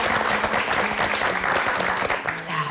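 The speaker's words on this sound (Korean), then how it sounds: "다시 한번 큰 박수 보내주시고요" Sustained applause from a studio audience at the close of a Korean television program about North Korean defectors, loud and steady throughout, with faint voices mixed beneath the clapping.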